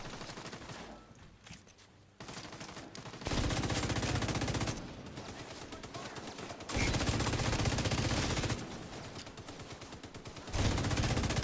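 Video game turret gunfire, sustained bursts of rapid automatic shots alternating with quieter pauses, each burst several seconds long and loud against the ambient battle noise.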